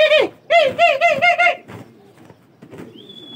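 Homing pigeons being released and flown during training give a run of loud, close cooing calls in quick succession, then fade into quieter rustling and a faint high tone.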